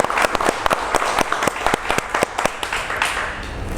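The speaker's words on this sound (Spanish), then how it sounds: "nos despedimos con un fuerte aplauso para que se sienta." Small audience at a literary gathering giving a round of applause, distinct close claps at first that thin out and soften toward the end.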